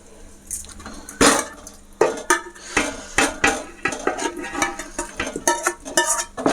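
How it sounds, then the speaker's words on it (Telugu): Fried chicken being stirred into small pearl rice for chicken pulao, with a utensil scraping and clanking against the pot in close, irregular knocks and rattles and no talking. "ఇదంతా ఒకసారి కలిసేలా కలుపుకుందాం."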